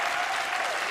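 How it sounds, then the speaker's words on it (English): An audience gives a panel discussion on political representation a warm round of applause, a dense, even burst of clapping filling the room without pause. "Can you please give this amazing panel another big round of applause?"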